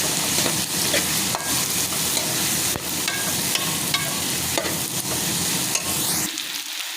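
Chicken, about one and a half pav, stirred and fried in a pan for chicken bread rolls, gives a steady close sizzle with scraping spoon strokes throughout before cutting off sharply near the end.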